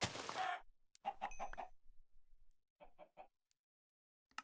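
Minecraft chickens clucking in short bursts of clipped clucks separated by silence, quiet and close, with a loud scraping clatter at the start.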